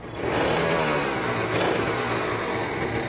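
A Kawasaki Ninja RR motorcycle engine running steadily near the microphone, a loud, continuous buzzing two-stroke drone with slight rises in revs and no talking.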